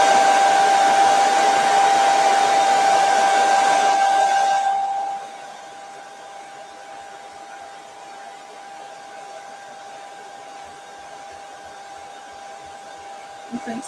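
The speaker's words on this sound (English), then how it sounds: "I'm going to plug in my blow dryer. We're going to dry it, so it's going to get a little" A blow dryer runs loud and steady with a whining hiss while drying a paper and fabric strip garland, then shuts off after about five seconds, leaving quiet room tone.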